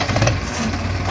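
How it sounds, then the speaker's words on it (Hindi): A Farmtrac 6055 tractor's diesel engine runs close by, a loud, steady low chugging drone with no break across the short stretch. "देखिए भाई एक बार आवाज़ भी सुनाते हैं ट्रैक्टर की आपको।"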